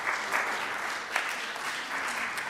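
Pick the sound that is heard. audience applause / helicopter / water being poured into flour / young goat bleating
audience applause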